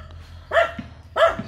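A dog barks twice, close and fairly loud, with a pause between the two barks. The dog has a broken leg and is kept at a home in the Philippines.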